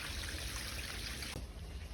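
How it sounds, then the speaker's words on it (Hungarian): Muddy rainwater runs steadily down a sidewalk beside a house after a summer storm in Budaörs, a continuous close trickling wash with no voices. "Folyik lefele az iszap és a víz az eső után."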